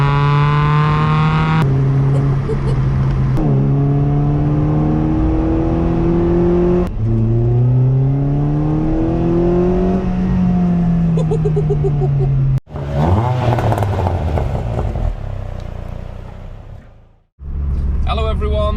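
A car fitted with a full Milltek non-resonated exhaust, 4-1 manifold and sports cat revs loudly and close by, its raspy note climbing and falling through several pulls before cutting off abruptly twice.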